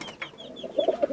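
Rampuri and other high-flyer pigeons in a Khulna loft give soft, low cooing that builds into a few louder coos near the end of this short moment, close by with no talk.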